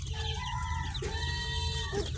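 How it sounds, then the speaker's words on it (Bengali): Chickens of an Australian breed, raised as chicks in a brooder, cluck and cheep continuously at a fairly soft level, with overlapping calls and no talking. "এটি অস্ট্রেলিয়ার একটি মুরগির জাত"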